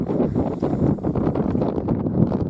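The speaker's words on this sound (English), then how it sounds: "Wind is picked up." Wind gusts steadily across a mountain lake in Idaho, a loud continuous rumbling rush buffeting the microphone with no voices.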